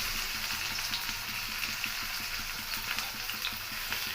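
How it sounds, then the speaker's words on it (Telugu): Onions sizzle in hot oil for an egg fry, a steady broadband frying hiss with no talk, even and close throughout. "ఆయిల్ అయితే ఏడైపోయింది. ఇప్పుడు ఉల్లిపాయలు వేస్తున్నానండి."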